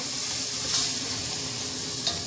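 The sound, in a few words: zucchini squash soup cooking on high heat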